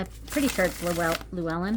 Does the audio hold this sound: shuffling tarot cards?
yes